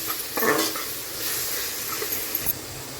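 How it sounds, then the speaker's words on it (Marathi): A paste of ginger, garlic, coriander and green chilies frying in a pan for prawn biryani, giving a steady hissing sizzle with a couple of brief spatula knocks, close and without voices. "आलं लसूण कोथिंबीर आणि मिरचीची पेस्ट टाकते दोन ते तीन मिरच्या घेतल्या होत्या हिरव्या छान परतून घेऊया"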